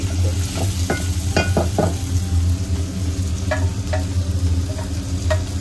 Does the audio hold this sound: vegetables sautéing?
yes